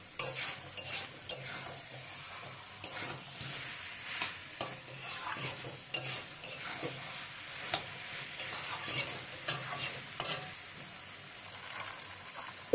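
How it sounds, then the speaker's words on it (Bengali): Beans are stir-fried in a pan for a curry. A soft background sizzle runs under repeated spatula scrapes and taps that come at an irregular rhythm, with no voices. "এবার আর একটু কষিয়ে নিতে হবে।"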